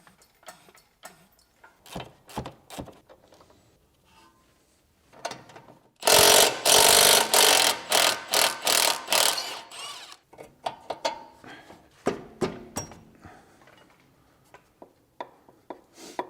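A ratchet wrench clicks in quick bursts as a suspension bolt is worked loose on a BMW E70 X5 SUV, with a loud, rapid stretch of cranking in the middle and sparser ticks and clanks on either side.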